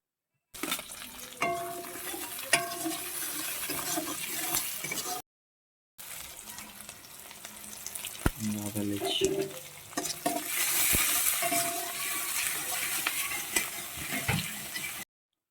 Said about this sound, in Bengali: আমরা তেলের মধ্যে ফোড়ন হিসেবে মৌরি গোটা গরম মশলা এলাচ এবং কুচানো পেঁয়াজ আর ক্যাপসিকাম দিয়ে দেবো